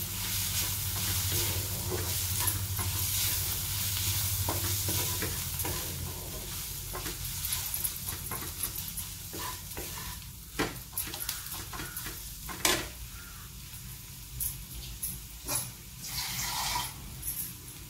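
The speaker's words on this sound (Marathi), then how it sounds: "तेलात आपण व्यवस्थित हे कांद्यामध्ये परतून घेत आहोत." Onions with chili powder fry in oil while being stirred in a pan for a Marathi usal dish: steady sizzling at first, then intermittent spoon scrapes and clinks against the pan, close, with no voices.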